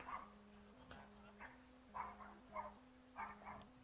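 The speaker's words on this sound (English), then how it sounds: "And a pooch is currently barking" A dog barks in short repeated bursts near home plate at a baseball game, faint and somewhat distant over a low steady hum.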